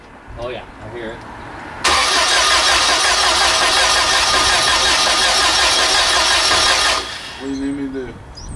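A test engine running on gaseous fuel cranks and then roars loud and steady for about five seconds before stopping abruptly, with voices talking before and after.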